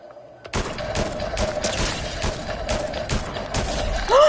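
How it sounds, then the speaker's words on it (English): Sniper rifle gunfire rings out in a video game: a rapid string of sharp, evenly spaced shots follows a brief quiet start, loud and close. "Just sniped someone, Serena."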